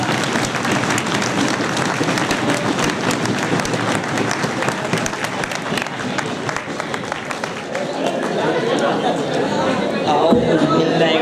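An audience claps in sustained applause to welcome a newly elected chief at a Marwari Bhatti Jamat gathering in Pakistan, dense and steady crowd clapping with some murmuring, thinning slightly toward the end.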